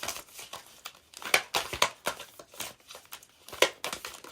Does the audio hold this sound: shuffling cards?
yes